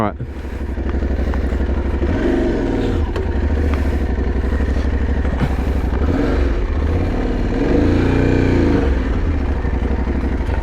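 An Aprilia Tuareg 660 adventure motorcycle rides a tight dirt single track, its engine droning steadily close up with surges of revving and clattering over rough ground, while a rider talks over it.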